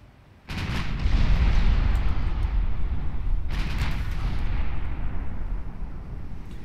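Big warship guns firing in the naval video game Ultimate Admiral Dreadnoughts: two heavy booming salvos a few seconds apart, each followed by a long, loud rumbling roar.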